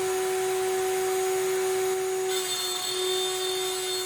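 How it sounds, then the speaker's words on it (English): A router with a small bit cuts dado slots into a heavy cabinet side board, a steady high motor whine with a cutting rasp that shifts slightly as it advances slowly, loud and close, no voices. "We are cutting the actual dado slots in the back of our"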